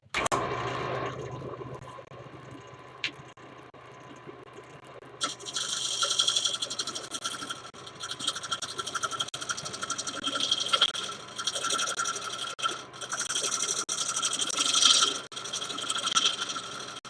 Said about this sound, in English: Shaving down the sides real slow.